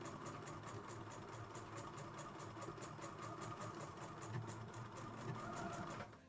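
Sewing machine running steadily and close while stitching a half-inch back-stitched seam on a child's dress, a continuous even hum and chatter that ends abruptly.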